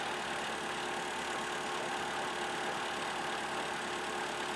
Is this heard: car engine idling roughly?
yes